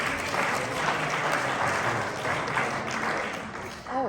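A 50th-year class reunion audience applauding, dense sustained clapping from a full room that holds steady for several seconds before thinning out near the end.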